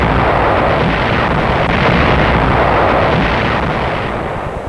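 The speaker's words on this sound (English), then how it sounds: "the thudding of the German flag started up and bombs started to fall" Bombs fall and explode during a German air raid in wartime, a dense, continuous roar of blasts and rumbling, loud and unbroken, with no voices.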